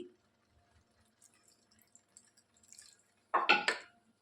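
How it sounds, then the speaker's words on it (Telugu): Water splashes and pours briefly near the end into a pressure cooker, a short burst of about half a cup of liquid after a mostly quiet stretch with faint kitchen clatter. "ఇందులో వాటర్ యాడ్ చేసుకోవాలి"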